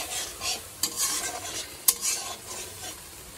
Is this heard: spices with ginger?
yes